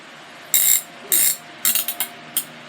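Resistance knob on a Hausse mini trainer pedal exerciser being turned, a series of close, crisp ratcheting clicks in short bursts, two longer runs followed by quicker single clicks.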